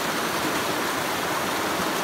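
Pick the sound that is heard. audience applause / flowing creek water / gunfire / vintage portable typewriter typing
flowing creek water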